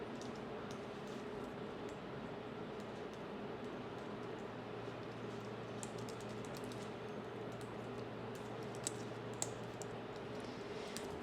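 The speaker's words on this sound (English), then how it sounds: "you're just going to type in your personal information here" A computer keyboard is typed on lightly, with faint, sparse key clicks over a low steady room hum.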